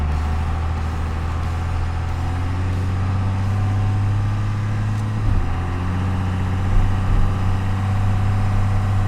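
A compound-turbo Cummins diesel swapped into an OBS Ford pickup, driving in third gear: a loud, steady low drone with a deep rumble and faint turbo whine, a brief dip midway as the load shifts.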